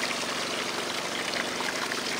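Water pours steadily through a Gold Fox wash plant fed by a Big Johnson 374FL, washing dirt through the machine in a continuous, loud rushing stream with mechanical rumble underneath.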